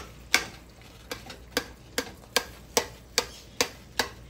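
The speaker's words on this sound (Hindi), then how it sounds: "बिल्कुल हल्की आंच पे लो और मीडियम के दरमियान हम भूनेंगे और मैं उसी पे भून रही हूँ।" Semolina roasting on low-to-medium heat for makhandi halwa, stirred with a spoon: a steady series of about nine sharp scraping taps, roughly twice a second, close and fairly quiet over a faint background, with no talking.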